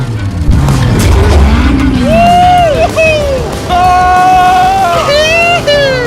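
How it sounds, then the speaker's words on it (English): Loud, expensive car driven hard on a private racetrack, its engine roaring and rising in pitch as it accelerates through gears, with tire squeal and excited voices talking over it throughout. "driving overpriced, loud cars On a private racetrack"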